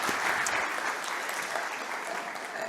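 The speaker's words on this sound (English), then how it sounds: "Applause." Audience applause after a speaker's thanks at a sponsored talk on the metaverse, a dense, steady patter of many hands clapping throughout, fairly close and filling the room with no voices over it.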